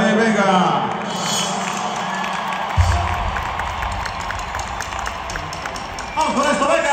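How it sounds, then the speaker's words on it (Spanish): An audience cheering and applauding at a reunion concert in Arlington, Texas, a crowd roar with voices and a loud amplified thump midway, whistles and claps rising toward the end. "Un aplauso para él, venga."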